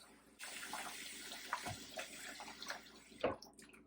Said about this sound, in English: you can keep that cold water running